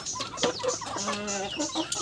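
On a farm, a chicken clucks nearby, a short run of throaty, repeated clucks and squawks that stands alone with no talking.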